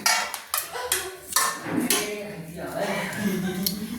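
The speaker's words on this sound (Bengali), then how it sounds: "দেখুন মা চাপাটা তুলে নিচ্ছে।" A metal lid is lifted off a pan where palm pitha is cooking, giving a few sharp metallic clinks and knocks over ongoing talk.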